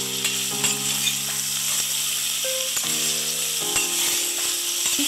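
Cucumber pieces and tomato sizzle steadily in a pan for dal, a continuous hiss with a few faint clinks, alone and without talk.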